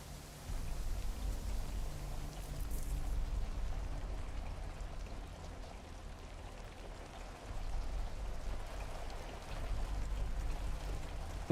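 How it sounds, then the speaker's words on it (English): In a video game trailer, rain patters on a metal roof and a jacket as a soft, continuous hiss of drops with a low rumble underneath, holding fairly even with slight swells. "The rain sounds like on her jacket."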